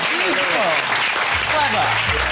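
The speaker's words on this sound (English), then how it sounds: "Round of applause." A studio audience on a cooking show claps in a dense, loud burst, with voices and a rising musical sting under the applause.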